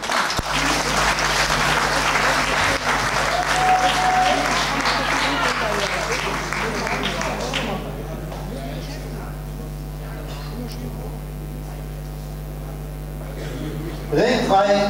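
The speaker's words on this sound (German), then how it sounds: "das bedarf natürlich einer besonderen Aufmunterung und einen besonderen Beifall" Audience applause at a women's 63 kg boxing state championship in Brandenburg, a loud sustained clapping crowd that fades after several seconds into quieter hall noise with a steady hum.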